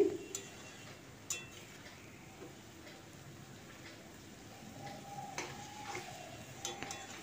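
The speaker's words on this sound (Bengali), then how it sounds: "আবারও ভালো করে মিশিয়ে নিচ্ছি।" Drumstick stems and potatoes, cooked dry in ridge gourd juice, get stirred in a pan with soft, faint scrapes and a gentle sizzle, with a couple of sharper clinks near the start.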